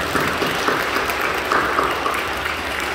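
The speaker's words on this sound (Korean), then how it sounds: "우리 사랑하고 격려하는 박수해 주십시오." A Korean church congregation at Sunday worship gives warm applause, an even, continuous patter of many hands clapping together for a few seconds.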